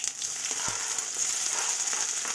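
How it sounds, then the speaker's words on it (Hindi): Chopped onion frying in hot oil with dry red chilli and bay leaf for spicy ghugni, a steady close hiss and sizzle throughout with faint occasional stirring clicks. "अभी इसमें कटा हुआ प्याज डाल देंगे,"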